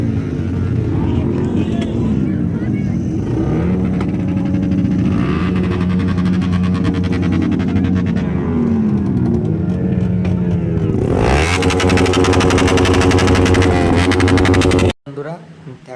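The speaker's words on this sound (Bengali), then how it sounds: "দেখো কি অবস্থা গাড়িটা পিক আপ তুলতে মানে আওয়াজ বের করতে করতে মানে এমনই পিক আপ তুলছে" A vehicle engine revs loudly and repeatedly, its pitch swelling and falling in long sweeps, then climbing to a harder, higher sustained roar before stopping abruptly near the end.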